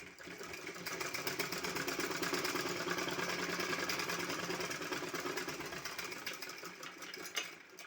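A sewing machine stitches shopping-bag fabric, a steady close mechanical whirring with fast rhythmic needle chatter that runs continuously for several seconds before slowing near the end.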